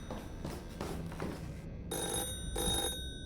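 Telephone bell ringing inside a house in a horror video game, two clear bursts of ringing with a pause between, after some faint rustling.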